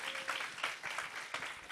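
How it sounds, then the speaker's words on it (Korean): A seminar audience claps in a short, soft burst of applause, close-sounding and rhythmic, with a faint voice underneath. "정혜련 사장님께 다시 한 번 더 큰 박수"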